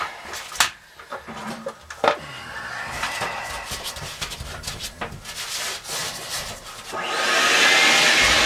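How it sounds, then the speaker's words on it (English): Scraping and rubbing noises on an air conditioner A-coil give way to a loud, steady vacuum roar that starts up near the end and keeps running. "let's vacuum it"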